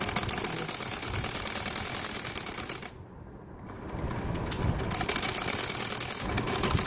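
A sewing machine runs rapid, rhythmic stitching while double-stitching the seat of a kundo wali salwar. It chatters loudly and steadily, stops briefly midway, then resumes at full pace.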